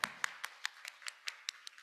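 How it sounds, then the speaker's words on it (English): An audience at a music theater symposium applauds its speakers: a short, thin run of roughly ten evenly spaced claps, fairly faint and fading, with no talk. "please join me in applauding our speakers again"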